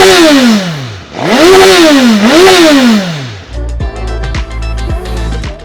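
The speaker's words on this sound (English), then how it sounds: "I'm just going to crank this engine up and you guys just listen to that noise." A 2022 Suzuki Katana's inline-four engine revs loudly and close up in three rising-and-falling blips, then settles into a steady clattering idle with sharp transients, no talk.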